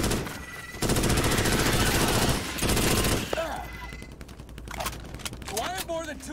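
Video game gunfire in Starship Troopers: Extermination, a dense rapid burst of automatic weapon fire that cuts out, returns briefly, then gives way to scattered distant shots and chaotic battle noise.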